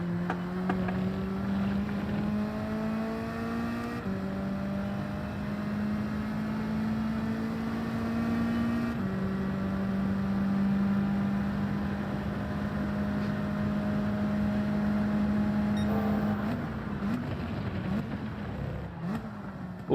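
A Mazda Atenza engine in a Gran Turismo race drones steadily at high revs, its tone climbing within each gear and stepping down at several shifts, loud and continuous with no talk over it.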